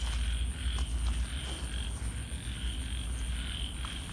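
Frogs croaking outdoors after rainfall, a dense, steady chorus of low throaty calls rolling continuously at moderate loudness, with a faint insect-like whine above and no talking.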